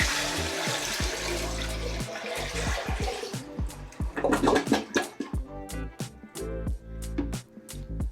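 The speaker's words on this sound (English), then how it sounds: "it's gonna kind of create a vacuum by overwhelming the toilet" Toilet flushing after a bucket of water is dumped into the bowl, with a loud gushing rush that slowly breaks into gurgles and sputtering drips as the bowl drains, no talking.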